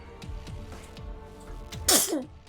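A single sharp sneeze bursts out near the end, loud and close, following softer rhythmic tapping or knocking sounds in an otherwise quiet room.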